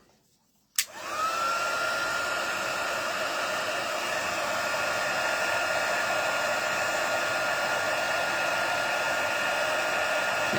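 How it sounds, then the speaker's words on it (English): Heat gun switched on with a sharp click, then a steady loud whooshing roar of hot air that holds at an even level, close by with no voices. "And then get the heat gun back out."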